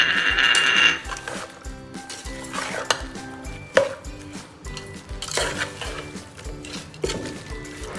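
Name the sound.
mixing yogurt marinade in a bowl for chicken biryani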